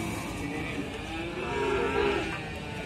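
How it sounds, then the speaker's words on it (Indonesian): Cattle on an Indonesian farm lowing in a continuous, fairly loud stretch of overlapping moos, with a swell near the middle and no talk. "Untuk kondisi dari sapi-sapinya sendiri seperti ini."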